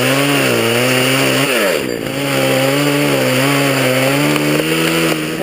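A petrol chainsaw runs while cutting a big tree, its loud buzzing engine note rising and dipping under load, close and continuous without speech.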